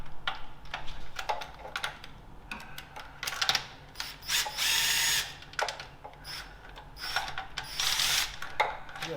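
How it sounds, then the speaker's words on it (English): Bolts coming off the oil pan of a Chevrolet Silverado with a 4.3 V6, heard as bursts of close mechanical ratcheting and whirring in a busy garage, with short gaps between runs and no talk. "now we're ready to take all the oil pan bolts out"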